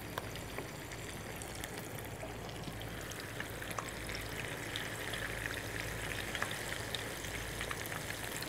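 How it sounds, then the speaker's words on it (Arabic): Tempura-battered fish frying in hot oil, a steady, fairly soft sizzle and crackle with fine bubbling pops running evenly throughout, no voices. "وننزلها في الزيت"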